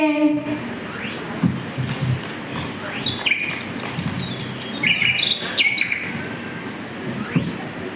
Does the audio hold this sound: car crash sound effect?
no